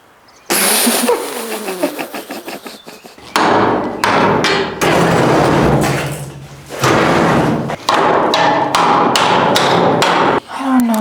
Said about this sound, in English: we sadly have to take the hammer to it